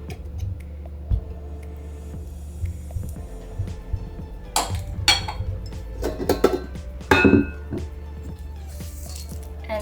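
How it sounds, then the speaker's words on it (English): A metal mixer paddle is pulled free of a mixing bowl of vegan vanilla cupcake batter, giving soft squishy, sticky sounds and a few light clinks and knocks of metal against the bowl in a quiet kitchen. "So I'm just gonna remove the paddle."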